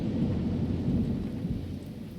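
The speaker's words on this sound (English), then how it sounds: "the sound of rain falling in the forest" Rain falling in a forest with thunder: a deep, continuous rumble of thunder rolls over a steady hiss of rainfall, loud and unbroken for the whole short stretch, with no voices.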